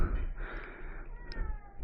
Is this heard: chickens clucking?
no